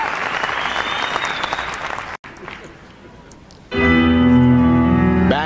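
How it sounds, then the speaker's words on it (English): Audience applause at a figure skating festival show in an arena, a broad crowd clapping that fades, followed by music starting up loudly. "Nice round of applause for Rosalind Sumners."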